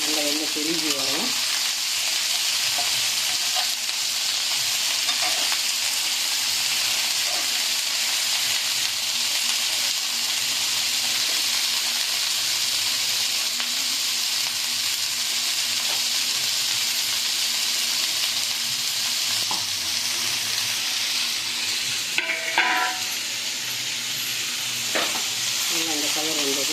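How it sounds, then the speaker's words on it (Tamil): Paya gravy ingredients sauté in oil, giving a continuous loud sizzle with occasional stirring and a few utensil clinks late on. "இந்த மாதிரி வதக்கும் போது கொஞ்சம் எண்ணெய் ஊற்றணும்."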